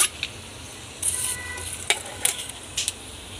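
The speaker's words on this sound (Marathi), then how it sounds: "आपण तेजपत्ता आणि थोडा खडा मसाला टाकून घेऊ" Bay leaf and whole spices crackle and sizzle in hot oil, starting a tempering for a paneer dish. The frying is soft and steady, with several sharp pops and spits scattered over a few seconds.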